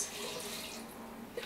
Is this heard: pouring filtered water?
yes